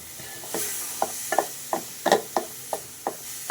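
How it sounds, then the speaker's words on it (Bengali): A spatula scrapes rhythmically through fried kalai greens in a pan, about ten sharp, evenly spaced strokes over a soft, steady sizzle, close and clear with no talking. "সুন্দরভাবে একটু নাড়াচাড়া করে নিব"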